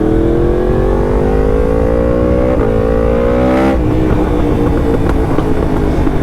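A Yamaha MT10 gen 2 motorcycle with an Akrapovic exhaust roars loudly and steadily, its engine note climbing under acceleration, with a few sharp pops cracking through the exhaust.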